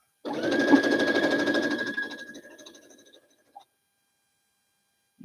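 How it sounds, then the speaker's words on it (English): A sewing machine stitches pieces of fabric for a quilted boot-pattern block, running steadily at close range for about three seconds before slowing and stopping, followed by a faint click. "Sew it."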